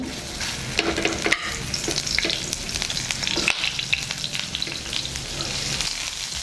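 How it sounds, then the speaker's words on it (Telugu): Cauliflower pieces deep frying in hot oil, a dense, loud crackling sizzle throughout with occasional scraping stirs, nobody speaking. "అదే ఆయిల్లో కాలీఫ్లవర్ పీసెస్"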